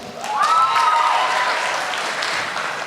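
A crowd at a 2017 high school graduation ceremony breaks into loud, sustained applause, with a few whoops or whistles rising above the thick clapping before it settles slightly.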